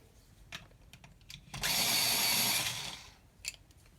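A hand-crank pencil sharpener grinds colored pencils in one close, rasping burst of about a second and a half, with light clicks and taps before and after.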